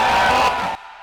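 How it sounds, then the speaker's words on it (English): A loud crowd cheers and whoops for a startup presenter on stage, a dense roar that holds steady and then cuts off abruptly, leaving a quiet room. "Please give a big round of cheer for Lucky from Everjon Nutrition."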